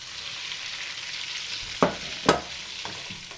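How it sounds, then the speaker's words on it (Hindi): Potatoes and cumin seeds fry in melted ghee and butter for egg and aloo pasta, a steady soft sizzle with a few sharper stirring scrapes near the end, close by and no talking. "जीरे में और आलू को हम इसमें भूनेंगे"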